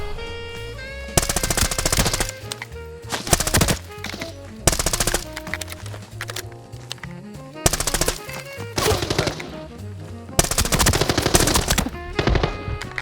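AK-12 assault rifle gunfire in the video game Arena Breakout Infinite: several loud, close bursts of rapid automatic fire separated by short pauses.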